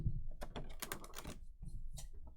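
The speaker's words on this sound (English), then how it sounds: "Looks like there is tape on the side, so I'll go ahead and cut that open" Packing tape on the side of a cardboard box holding a boxed Mega House dragon statue is sliced open with a small knife, giving a quick run of close, crisp scratchy cuts and rips with brief pauses.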